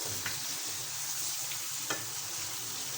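Chicken for a korma frying with spices in a pan: a steady broadband sizzle throughout, with a few brief scraping stirs of a utensil and no one speaking.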